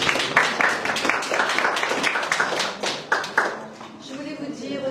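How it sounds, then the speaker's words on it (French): An audience claps at an art exhibition opening, a vernissage, with fairly sparse, distinct hand claps at first thickening into brief applause, then thinning out; some voices murmur alongside. "Donc, on peut l'applaudir également."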